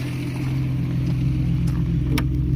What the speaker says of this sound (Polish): Mimo długiego postoju silnik równo pracuje